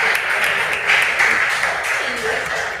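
A school quiz contest audience applauds a competing basic school, a steady wash of many hands clapping in a hall, moderately loud and continuous throughout.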